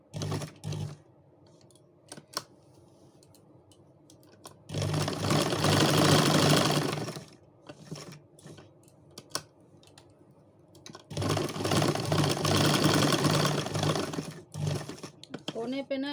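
A sewing machine stitches the corner of a saree in two long, loud, rapid bursts, with short clicks and pauses in between as the fabric is adjusted.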